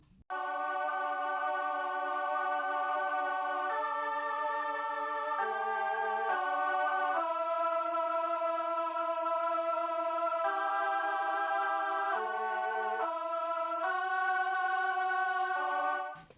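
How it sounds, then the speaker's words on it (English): Sustained Mellotron choir chords change slowly through a progression, airy and unbroken, with no talking over them. "It sounds something like this, just the Mellotron choirs."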